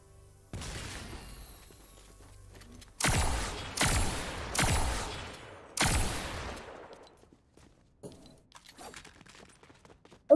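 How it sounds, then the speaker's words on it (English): Old Smoky helium shotgun in a video game firing four loud, evenly spaced blasts, each with a short decaying tail, followed by quieter clicks and handling noises. "So as you can see, the Old Smoky helium shotgun."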